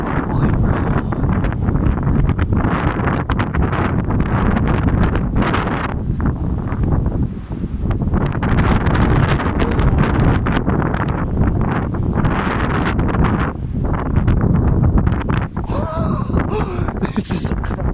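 Strong gusting wind from Storm Dennis roars steadily across the microphone, a loud, continuous buffeting rush outdoors with no clear pauses.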